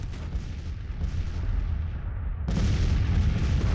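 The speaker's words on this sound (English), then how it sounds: "We're just gonna have this artillery duel going on." Continuous artillery duel from Grand Tactician: The Civil War, a dense roll of cannon fire and booming gunfire that swells louder partway through, with no voices.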